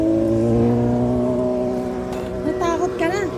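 Motorcycle engine labouring on an uphill ride toward Planas Hills in Ramon, Isabela, a steady loud drone with strong harmonics that shifts pitch late on, as voices call out over it.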